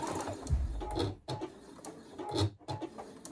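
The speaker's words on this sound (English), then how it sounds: "You got to take your pin out first, but sew all the way" A sewing machine stitches quilt pieces for a double wedding ring quilt in short close bursts of rapid mechanical whirring, with brief pauses between runs and no talk over it.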